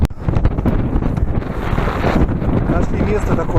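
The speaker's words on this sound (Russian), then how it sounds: "Наверху ветер шквальный просто. Сдувает." Gusty storm wind on Pourkeu mountain buffets the microphone in a heavy, continuous roar with uneven surges of low rumbling throughout.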